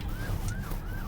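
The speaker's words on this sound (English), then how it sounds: "So that was an ambulance, and this car did not yield at all." An ambulance siren wails past a Tesla on Full Self-Driving Beta, its rising and falling tone repeating steadily over car and road noise, fairly close and loud.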